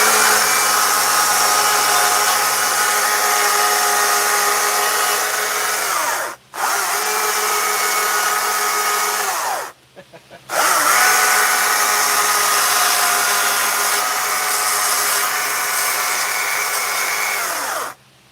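A chainsaw cuts into wood during carving, a loud, close, sustained motor roar that holds steady for long runs, dropping out briefly twice before revving back up.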